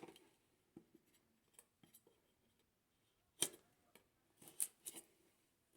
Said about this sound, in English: I'm just gonna cut the seal